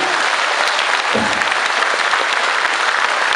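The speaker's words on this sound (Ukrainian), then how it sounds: "Ваші оплески, підтримайте жінку." A crowd at a concert in Zvenyhorodka applauds to support a woman, dense and loud continuous clapping filling the whole stretch.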